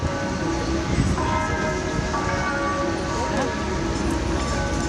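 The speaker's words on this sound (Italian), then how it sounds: "È il rintocco lento delle campane" Church bells toll slowly at a funeral, deep strikes at a steady pace over a dense, noisy outdoor background with a faint murmur of voices.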